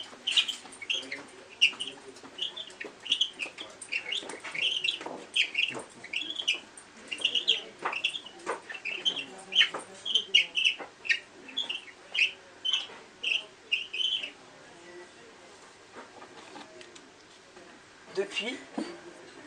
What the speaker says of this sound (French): c'est là qu'on entendit le rossignol chanter